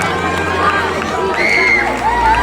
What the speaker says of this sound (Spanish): Fuerte aplauso para Fiji